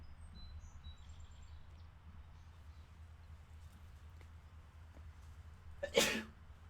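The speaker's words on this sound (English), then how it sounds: "Oh, I have to sneeze again." One abrupt, loud sneeze bursts out near the end after several seconds of quiet room noise.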